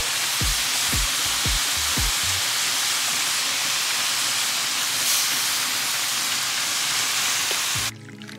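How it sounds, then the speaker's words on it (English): Shrimp sizzle in a pan with lemon and garlic, a loud continuous hiss of frying that holds steady throughout, with a few low knocks early on and a sudden shift near the end. "Shrimp is in the pan."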